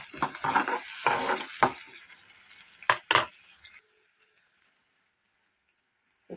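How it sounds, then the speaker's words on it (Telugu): Onions sizzle loudly in a hot pan with a few sharp scraping stirs, frying toward golden brown before the sizzle drops to a quiet, faint hiss. "ఆనియన్స్ వేసుకొని అది golden brown colour, light golden brown కలర్లో వచ్చే విధంగా"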